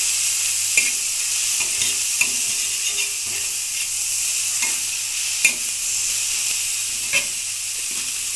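Egg roll filling ingredients fry in a pan with a steady, close sizzle and hiss, broken now and then by sharp clicks and scrapes of stirring.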